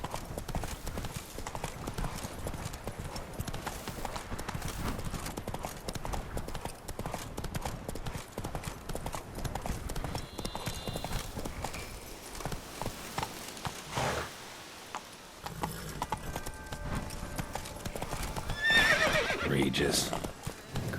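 Horse hooves clip-clopping at a gallop in The Witcher 3: Wild Hunt, a steady drumming rhythm running throughout, with whinnies, ambient game sounds and a burst of louder noise near the end.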